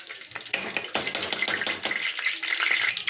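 Rice and a spoonful of ghee sizzling in a cooking pot, a close, steady hiss with light scraping clatter over about three seconds, no voices.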